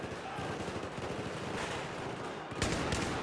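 Suppressing gunfire in Battlefield 4 on the South China Sea map, a steady dense rattle of automatic fire running continuously with a burst of louder shots near the end, game noise filling the whole span.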